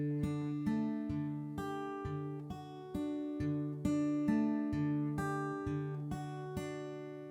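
Acoustic guitar fingerpicks a sequence as a steady, repeating run of single plucked notes that ring into each other, played close, soft and clean with no voices.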